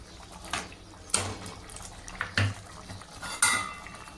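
A spoon stirring tamarind into a pot of bottle gourd and dried-fish curry, with several sharp metal scrapes and clinks against the vessel over a soft wet background.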